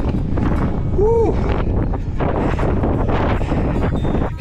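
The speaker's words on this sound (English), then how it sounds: "Breezy up here." Gusty wind buffets the microphone on the summit of Mount Mitchell, a loud, continuous rushing roar, with a brief whoop of a voice cutting through early on.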